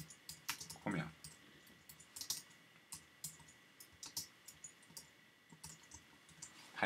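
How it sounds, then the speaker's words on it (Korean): Computer keyboard typing, a brisk run of light, uneven keystroke clicks close by against a faint hiss, with no voices. "타이핑 제대로 안 되고 있네."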